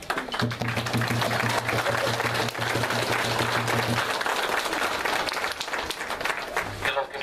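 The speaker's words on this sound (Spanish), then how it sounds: "vamos a brindarle un fuerte aplauso" Festival crowd applauding at a traditional pastoral dance for the Holy Child Jesus, a dense steady wash of clapping that holds loudly throughout, with a sustained low tone running beneath its first half.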